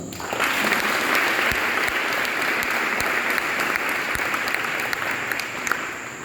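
Loud, sustained applause from a large church congregation, steady dense clapping filling the room for several seconds.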